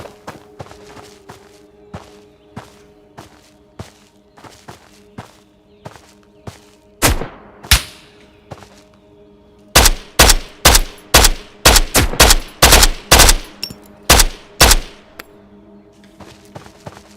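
AK-12 rifle fire in a video game: a steady run of single shots through the first half, then loud rapid bursts from about ten seconds on, with a few isolated heavy reports between.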